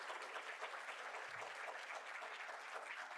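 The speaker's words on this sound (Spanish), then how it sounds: "les damos un fuerte aplauso aquí a nuestros ponentes" An audience applauds the speakers at a legal seminar, a continuous patter of many hands clapping at a steady, moderate level.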